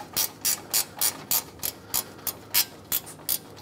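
A hand ratchet wrench tightening the mounting bolts on a replacement AC condenser for a 2007-2014 Chevrolet Silverado 2500 HD, about a dozen crisp, close clicks in an even rhythm with no talking.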